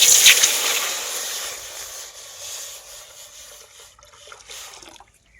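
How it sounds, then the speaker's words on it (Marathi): Water poured into a mud-coated cooking pot set on a wood-fired clay stove, a loud close splashing gush at first that thins to a softer trickle and stops near the end, with no talking. "पातेल्यात पाणी ओतून घेतलेले"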